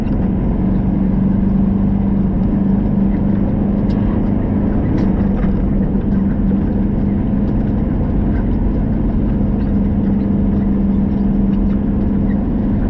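A truck engine drones continuously in 13th gear while climbing a 6% grade, a steady loud mid-pitched hum with cab rumble and no breaks.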